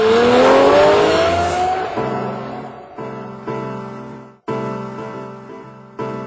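A Lamborghini Murcielago LP640 engine roars loudly with a rising rev, then settles into repeated throttle blips with short pauses between them.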